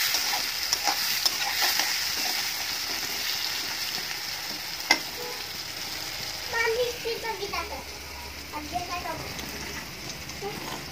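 Onion, garlic and bay leaves frying in a pan, a steady sizzle with occasional stirring clinks, a voice talking over it.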